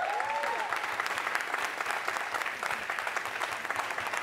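Studio audience applauding a band on a Costa Rican TV music show, a steady, dense wash of clapping that holds evenly for the whole stretch with no talk over it.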